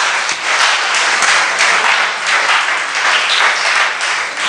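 Sustained applause from a church congregation fills the space, a thick, even roar of many hands clapping that swells slightly and fades back without any speech.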